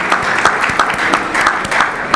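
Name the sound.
audience applause at a conference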